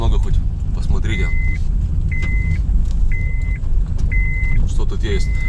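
Car driving on the way to a port, a steady low engine and road rumble heard from inside the cabin, with a short repeating electronic beep and people talking over it.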